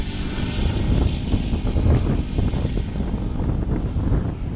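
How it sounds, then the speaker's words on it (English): A Top Flight Cessna 182 ARF giant-scale model plane idles on its OS 95 four-stroke engine, a steady, loud, close propeller drone with rough low-end chugging and wind buffeting throughout. "Lane Cessna 182 ARF by Top Flight. What a OS 95 four-stroke."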